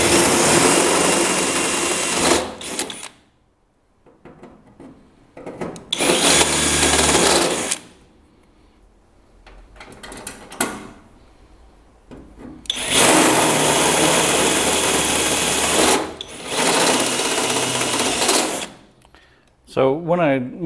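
Power drill turning a unibit step bit to enlarge 1/8 inch pilot holes to 1/4 inch, several loud whirring bursts separated by pauses, with someone talking in between.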